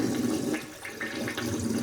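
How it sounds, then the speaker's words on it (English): A toilet flushes in an apartment bathroom during a walk-through inspection, a steady rushing gurgle of water at moderate volume, heard close and alone. "There's the flush"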